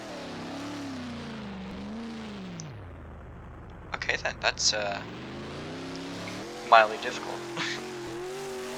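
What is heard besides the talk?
race car driving in Roblox Dirt Bristol map, video game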